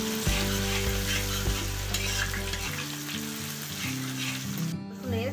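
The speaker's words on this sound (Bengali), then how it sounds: "আদা রসুনটা দিয়ে প্রথমে একটু ভেজে নিতে হবে।" Grated garlic and ginger fry in hot oil in a pan for veg Chinese fried rice, a steady loud sizzle with stirring clinks and scraping, with no talk over it.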